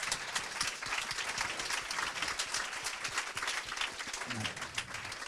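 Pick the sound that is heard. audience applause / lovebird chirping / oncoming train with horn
audience applause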